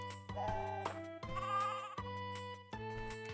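Sheep bleating in the farming game Fields of Mistria, three or four drawn-out tonal bleats one after another, clean and fairly quiet over a soft background tune.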